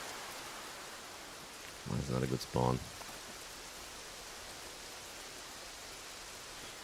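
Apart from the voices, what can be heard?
rain in the video game Escape From Tarkov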